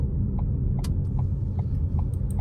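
A low engine rumble fills the inside of a moving car, steady and close. Faint regular ticks and clinks sound over it, and no one speaks.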